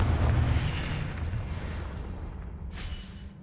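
Confringo fire spell explosion in Hogwarts Legacy, a loud rumbling blast that decays over a few seconds, with a brief whooshing burst near the end.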